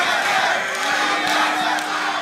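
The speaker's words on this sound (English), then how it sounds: "The crowd, obviously very much in TSM's favor" A large arena crowd at the 2014 North American League of Legends LCS playoff finals roars and cheers continuously, a dense, loud wash of voices with swelling shouts and no single speaker.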